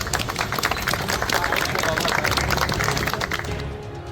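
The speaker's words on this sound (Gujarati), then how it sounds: "આ વાત સાંભળીને હાજર લોકોએ તાળીઓથી પોલીસને વધાવી હતી" A crowd gathered in Surat applauds police, steady dense clapping mixed with crowd babble that runs loud and continuous before easing slightly at the end.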